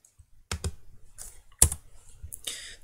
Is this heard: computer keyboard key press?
yes